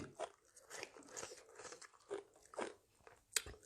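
Crisp, close crunching and biting on fish-sauce pickled blue crab, with irregular bursts of crackling shell and chewing spread across a few seconds and no talking.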